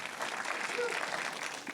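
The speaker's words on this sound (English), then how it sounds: "So clap for the sound team." Steady crowd applause fills the short stretch, dense and continuous with no pauses, as an audience claps together.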